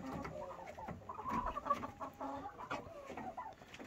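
Hy-Line and Lohmann Brown laying hens cluck in a run of soft, irregular calls that overlap, fairly quiet and close, with no talking.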